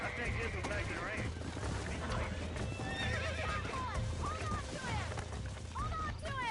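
Horse whinnies and neighs rise and fall repeatedly, with hooves clopping, in the Western video game Red Dead Redemption. The sounds are loud and close over a dense, busy background.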